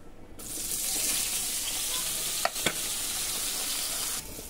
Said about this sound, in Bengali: এই যে বেগুনটা প্রথমে হালকা করে ভেজে নিব